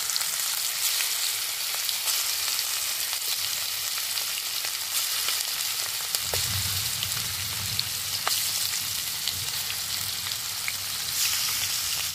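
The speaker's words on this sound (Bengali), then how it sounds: "মাংসগুলো কিন্তু 10 মিনিট ধরে খুব ভালো করে ভাজা ভাজা মতো করে নিতে হবে" Chicken pieces fry in hot oil with cardamom, black cardamom, cinnamon, cloves and peppercorns for a Mughlai chicken, giving a steady, dense sizzle that deepens and thickens partway through as the meat is stirred.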